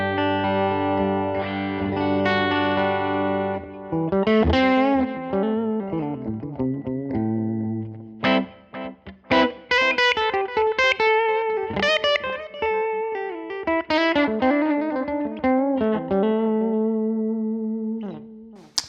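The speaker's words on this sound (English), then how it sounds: "I'm playing my Yamaha SA2200 on the bridge pickup." A Yamaha SA2200 electric guitar played on the bridge pickup through a clean Grammatico amp with no pedals, ringing chords and single-note lines with sustained notes and short pauses, loud and close, with no talk.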